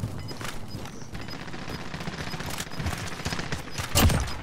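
Rapid automatic gunfire rattles through a Warzone match as a continuous fusillade of bursts at mid distance, with a louder, closer burst near the end.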